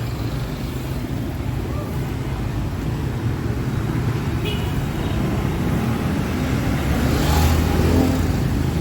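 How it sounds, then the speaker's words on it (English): Heavy, constant road traffic on a busy street in Saigon, Vietnam, a dense steady rumble of motorbikes and cars close by with a faint passing horn, no pauses throughout. "crazy traffic"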